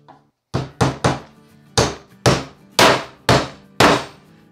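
Nails driven by a hammer in a test, eight sharp metallic strikes ringing out close and loud, grouped in quick pairs and singles with brief decays and no talk.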